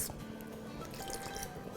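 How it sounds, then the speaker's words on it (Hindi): Salt and lemon juice go into soaked rice in an Instant Pot for chicken tahari pulao, making soft, quiet drips and wet squishing sounds over a steady background hiss. "इसमें हम डालेंगे चावलों के हिस्से से 1 टीस्पून नमक और 1 टेबलस्पून लेमन जूस"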